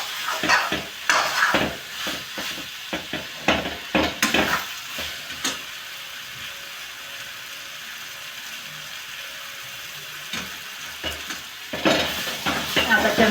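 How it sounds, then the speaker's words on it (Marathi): A tomato and onion mixture frying on a high gas flame while a spoon stirs and presses it: bursts of close scraping over a steady sizzle, quieter in the middle and then busy again. "आता चमच्याच्या दाबाने असं पूर्ण टमाटे वगैरे याच्यात मिक्स झाले पाहिजे, दबले पाहिजे, शिजले पाहिजे"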